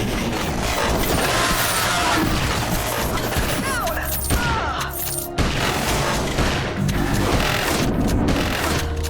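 Gunfire in the retro-style shooter Beyond Sunset, with booming shotgun blasts and heavy impacts amid dense, continuous game combat noise and music, loud throughout with several sharp bursts.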